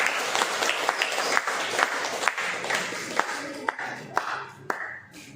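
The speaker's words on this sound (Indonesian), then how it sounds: "kasih tepuk tangan untuk kelompok 1" Classroom applause for the first student group after their presentation, a dense, lively patter of many hands that thins out toward the end, leaving a few sharp, isolated claps that fade away.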